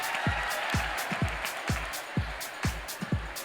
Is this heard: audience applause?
yes